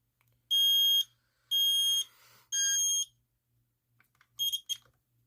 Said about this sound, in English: I reset the smoke alarm.